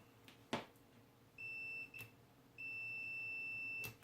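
A multimeter continuity tester beeps through wire leads with two sustained high electronic tones, the first short and the second longer, over faint room noise and a few soft clicks.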